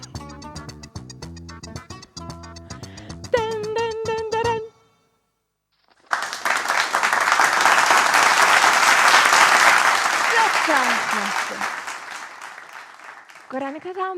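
Studio audience applause on a television show bursts in after a short musical passage and a brief silence, a dense, loud wash of clapping that swells and holds steady for around eight seconds before easing slightly.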